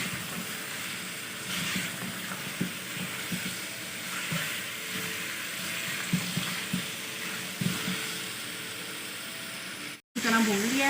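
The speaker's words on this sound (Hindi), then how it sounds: "इसको अच्छी तरह भून लें चिकन के साथ कि आलू में भी मसाला आ जाए।" Chicken frying with potatoes, green chillies and masala for aloo chicken salan, a steady close sizzle and hiss with scattered stirring clatter in the pan, cutting off abruptly near the end.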